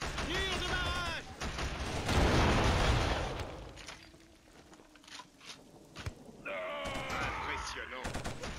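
Barrage fire in Killzone HD: a heavy roar of blasts and explosions swells to a loud peak, then fades to scattered shots, with voices speaking before and after the volley.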